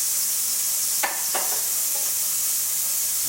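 Ginger and garlic paste fries in hot oil for a lamb jalfrezi, a soft, even hiss throughout with two or three brief scrapes of a spoon partway through.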